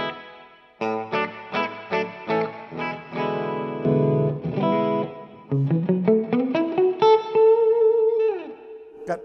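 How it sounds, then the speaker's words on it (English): A Les Paul played through the clean channel of a Fuchs ODS 2 amp with its built-in reverb. Picked single notes and chords ring out with a lush, lingering tail, ending on a sustained note. "So here's your reverb. This is the amp reverb."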